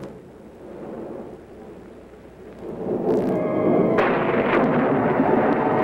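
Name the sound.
thunderstorm, thunder rumbling (movie sound effect)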